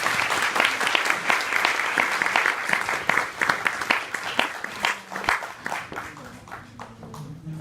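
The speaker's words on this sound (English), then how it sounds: "let's give her another round of applause." An audience applauds a guest speaker at a home style report event, with dense, steady clapping that stays loud for several seconds and then thins out toward the end, with no talk over it.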